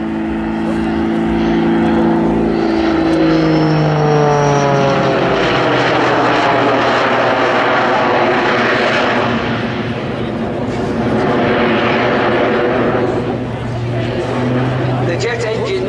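Jet Pitts S2S aerobatic biplane fitted with three jet engines, flying a display at the Sanicole airshow: a loud, continuous engine roar with shifting whine tones as it passes, under an announcer talking throughout.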